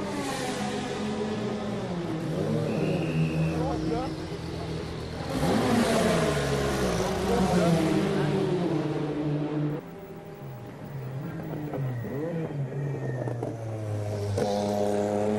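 Le Mans prototype race car pulling out of the pit lane during the 1990 24 Hours, its engine revving and rising through gears, loud and continuous, with a commentator's voice underneath.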